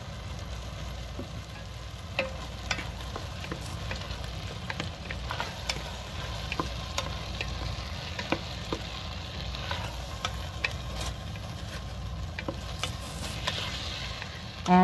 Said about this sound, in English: Turn over the mushrooms a couple of times to mix with the other ingredients.